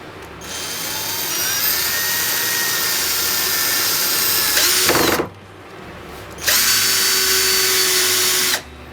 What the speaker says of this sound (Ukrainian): давайте тепер спробуємо, як працює муфта на першому положенні